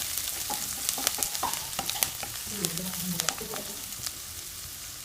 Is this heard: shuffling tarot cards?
no